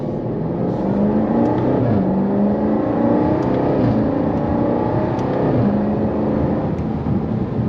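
A Jaguar XE SV Project 8 sedan with a dual-clutch gearbox accelerating hard from inside the cabin, a loud steady engine roar rising in pitch, dropping briefly at gear shifts and climbing again.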